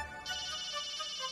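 A telephone ringtone rings with a steady, repeating electronic trill in a home, starting a moment in and continuing loud and clear with no talking over it.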